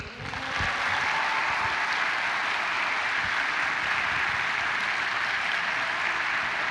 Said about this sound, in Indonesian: Jadi kita berikan aplaus yang paling meriah untuk